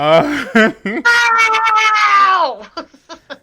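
A pet cat named Brownie meows loudly and insistently, with several short cries followed by one long, drawn-out wail that trails off into quieter, brief mews, heard close up.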